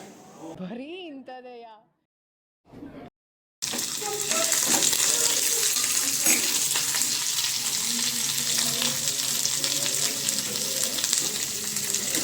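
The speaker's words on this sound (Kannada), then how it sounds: "ನೋಡಿ ಬೆಳ್ಳುಳ್ಳಿ, ಈರುಳ್ಳಿ, ಹಸಿಮೆಣಸಿನ್ಕಾಯಿ, ಕೆಂಪು ಮೆಣಸಿನ್ಕಾಯಿ ಇವೆಲ್ಲ ಹಾಕ್ಕೊಂಡು ಫ್ರೈ ಮಾಡ್ಕೊಬೇಕು." Garlic, onion, and green and red chillies frying in a pan for a chicken gravy, a steady loud sizzle filling most of the clip after a brief voice and a short silence at the start.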